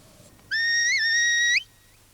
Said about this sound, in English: That is Cap's left-hand whistle